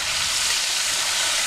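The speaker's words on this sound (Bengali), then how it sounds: "মাছগুলো একটু একটু করে ভেজে নেব, হালকা করে" Lote fish fry in oil in a pan over a low wood fire, giving a steady, bright, close hiss of sizzling with no pauses or talk.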